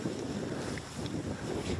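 Wind gusting across an exposed, shelterless island coast, a steady broadband rush and buffet that swells and eases, with some microphone wind noise and no speech.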